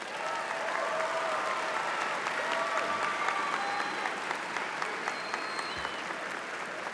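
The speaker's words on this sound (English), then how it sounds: "Please acknowledge them with a round of applause." Crowd applause for the top graduates at a Hillcrest High School graduation ceremony, a broad, sustained roar of clapping in a large venue with scattered cheers and whistles rising over it.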